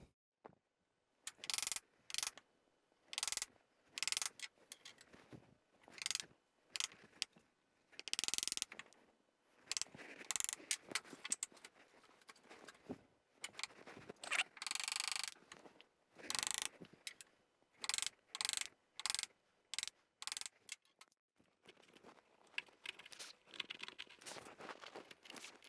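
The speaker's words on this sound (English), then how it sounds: "use a chisel to pair back to that marking line" A chisel pares dovetail tails back to the marking line on a board clamped to a workbench, a series of short, crisp scraping and shaving strokes repeated in irregular bursts, close and fairly quiet.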